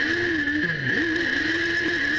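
Suzuki SR3 race cars accelerate off the start line together, their engines a close, loud, whining drone rising and dipping in pitch with gear changes over a steady high tone.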